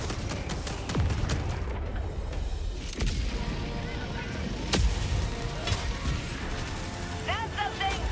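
A Gatling gun fires in the video game Helldivers 2, a dense clattering burst of rapid shots mixed with booms and crashes under a busy battle soundscape, with several heavy impacts standing out.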